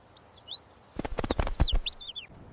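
A small bird's wings flap in a rapid flurry of soft beats at close range, with light chirps before and after.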